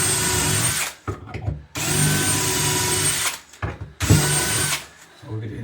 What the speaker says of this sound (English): It's a 5mm drill bit for the hinges we're using.